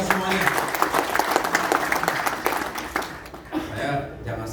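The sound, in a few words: audience applause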